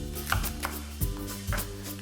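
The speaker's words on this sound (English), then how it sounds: "we're going to be cutting the fennel" Knife cutting through a fennel bulb on a cutting board for a roasted fennel and mushroom pasta, a few separate crisp chops spaced about half a second apart, close and clear.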